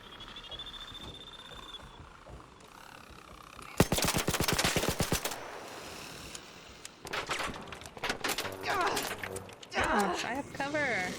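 Rapid automatic gunfire in Arc Raiders hammers out in a fast, loud, evenly spaced burst, then more shots and scattered bursts follow with clatter and whooshing effects, while a player talks throughout.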